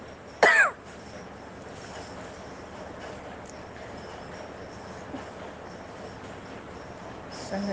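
A single short, sharp cough from someone feeling unwell rises briefly near the start, followed by quiet room tone with faint background noise.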